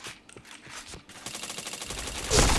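Video game gunfire, bursts of rapid automatic shots with sharp repeated cracks, loud and close, building into a dense fast volley near the end.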